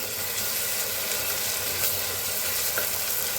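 Finely chopped tomatoes fry in a pan of golden-browned cooking, giving a steady, loud, close sizzle that runs unbroken throughout, with no voices.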